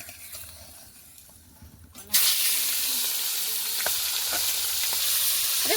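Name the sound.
fish frying in hot oil in a wok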